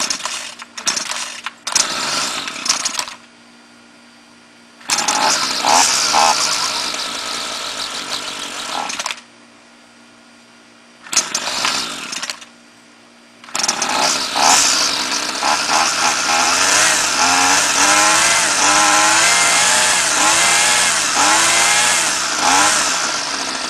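A gas string trimmer with a direct drive shaft is pull-started several times in short loud bursts with brief silences between them, then catches and runs loud and close, its engine revving up and down.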